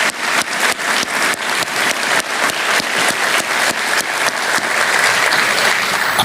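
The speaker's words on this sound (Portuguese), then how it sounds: "Mas Vladimir Kulteles e Igor Vilas Boas, a quem eu peço uma salva de palmas" Audience applause during an official economic policy announcement, a loud continuous crowd of clapping hands with a few sharp accented claps standing out at regular intervals across the whole stretch.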